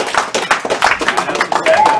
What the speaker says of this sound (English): this is the saddest applause we've ever had